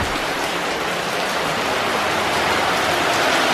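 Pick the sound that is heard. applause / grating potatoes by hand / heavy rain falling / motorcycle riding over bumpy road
heavy rain falling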